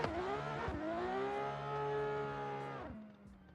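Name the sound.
drift car with VR38 engine revving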